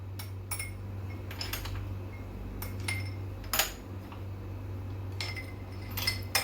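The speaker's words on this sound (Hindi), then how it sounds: "आइस क्यूब्स डालेंगे।" Ice cubes dropped into a glass of sweetened milk for dalgona coffee, a series of bright clinks and chinks spread irregularly, close and crisp over a low steady hum.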